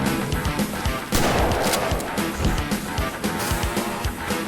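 Sustained gunfire in a video game, a continuous rattle of rapid shots with heavy bursts and booms layered together, loud and dense throughout with no talking.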